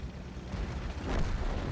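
A deep, rumbling artillery blast from a tank video game, played in a T110E4 tank on the Mines map, swells and rolls on for a moment, heavy and close.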